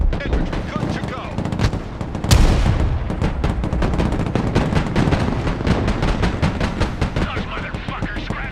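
Tank cannon fire in the Broken Arrow battle game, with a loud heavy boom near the start of a sustained combat din of rapid machine-gun bursts and artillery, and voices talking over the shooting.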